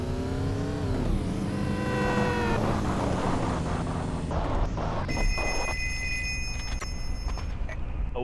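In the video game Payback 2, a car engine revs loudly. A telephone bell then starts ringing in repeated electronic trills over the engine noise.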